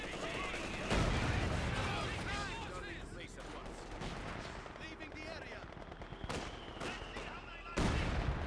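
Heavy gunfire in a video game battle, loud machine-gun bursts and scattered shots with explosive cracks near the start and end, a player's voice sometimes heard over the din.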